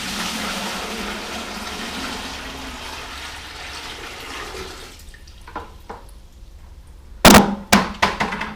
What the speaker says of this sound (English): let's get some water in this.